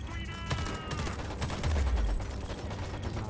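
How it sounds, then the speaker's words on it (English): Gunfire in the video game Homefront: The Revolution, with several loud shots and bursts arriving in quick succession under a steady low rumble, and a player voice faintly present in the background. "I'm getting shot by something. I don't know where."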